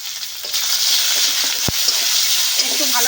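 Chopped onion and tomato frying with a dried chilli and five-spice seasoning, stirred in a pan, a loud steady sizzle close up with one sharp knock of the spoon.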